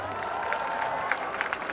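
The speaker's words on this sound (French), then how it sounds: "Est-ce qu'on peut faire un tonnerre d'applaudissements pour Nuit d'Afrique, s'il vous plaît?" Audience at an outdoor Montreal festival concert claps and cheers in a steady, dense wash of applause lasting a couple of seconds, with scattered whoops rising above the crowd.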